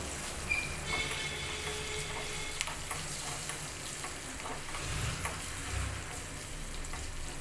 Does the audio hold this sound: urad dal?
yes